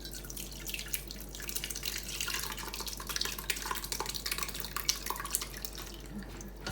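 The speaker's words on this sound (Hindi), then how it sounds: "इसमें से सारा पानी जो है ना हमने ऐसे निकाल लेना" Water trickles and drips steadily as chhena in a cloth sieve is squeezed, a soft continuous patter with scattered louder drops, close and alone without talk.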